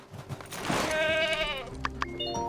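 A goat in the farming video game My Time At Sandrock gives a wavering, drawn-out bleat up close, followed by a few short game chimes.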